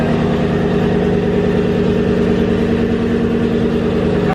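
A van engine runs with a bad pulley and a power steering pump with no fluid, a loud, continuous mid-pitched drone with a rough, fluttering whine, close and alone.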